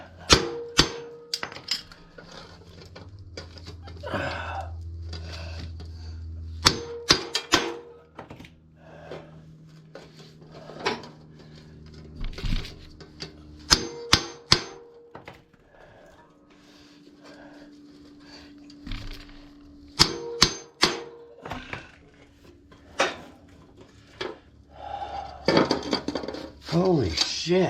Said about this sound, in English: we're gonna lube that and keep hammering it